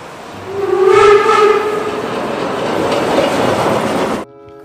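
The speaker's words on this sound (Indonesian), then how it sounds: "Kereta uap, teman-teman." Toy steam train playing a loud whistle-like tone with harmonic layers, followed by a steady chugging rail rumble that cuts off abruptly near the end.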